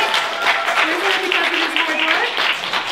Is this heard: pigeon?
no